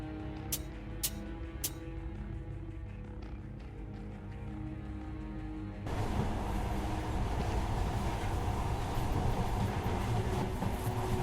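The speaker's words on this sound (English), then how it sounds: "In the past, trains were ordinary things. But now, this monorail seems magic, doesn't it?" A monorail train runs in the video game Metro Last Light, a steady rumble with a few sharp clanks at first, then a louder, denser rushing roar as the train picks up, continuous and close.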